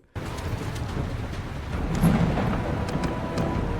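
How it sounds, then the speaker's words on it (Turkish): Stormy weather in the video game Mount & Blade II: Bannerlord, War Sails, with a steady wash of rain and a deep rolling rumble of thunder that swells partway through. "yağmurlu bir hava"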